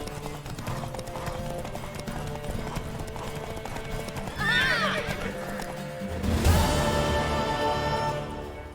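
Horse hooves clip-clop steadily in the Witcher 3 video game, joined by a loud neigh midway and a heavier galloping surge near the end, with faint voices and game ambience underneath.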